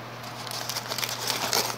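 Paper is crinkled and crushed by hand nearby, giving a steady run of crackling and rustling with no voices.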